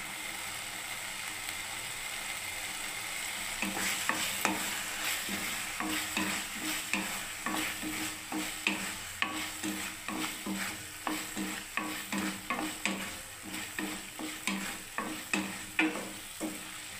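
A spice paste fries in oil, releasing its oil, while a spoon stirs it: a steady sizzle under rhythmic scraping strokes that grow sharper and more regular, with no talk.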